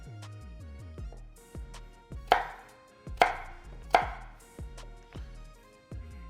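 A knife cuts roasted sweet potato into cubes on a board, giving a series of soft, irregular thuds with a few sharper knocks, close and clear with no talking.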